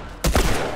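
A single sharp gunshot from The Last of Us Part II on Grounded+ difficulty rings out close and loud, then quickly decays with no talking.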